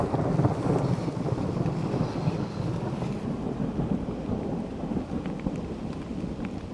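Thunder rumbling through a rainstorm, a deep continuous roll over steady hissing rain, loud and close at first, then easing slightly while rain keeps pattering.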